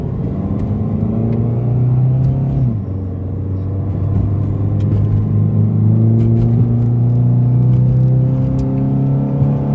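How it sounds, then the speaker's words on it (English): A car engine fitted with an aftermarket cold air intake revs hard and steadily, its loud rumbling tone rising and holding over nearly ten seconds, with a brief dip near the third second before climbing again. "Man, that cold air intake"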